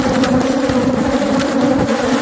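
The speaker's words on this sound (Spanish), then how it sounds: "Es una colmena enorme, muchas abejas, mucha agresividad," Africanized honeybees swarming around a huge, aggressive hive, a loud, steady droning buzz close to the listener, thick and continuous with no voices.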